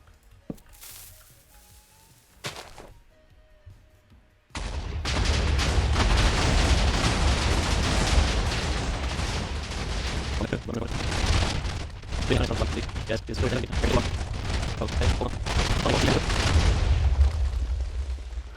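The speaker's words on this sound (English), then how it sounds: "So now I'm gonna blow it all up." Explosions blow up a player's island in Minecraft Hypixel Skyblock, a sudden loud eruption of continuous rumbling blasts that roars on for more than ten seconds after a few quiet moments.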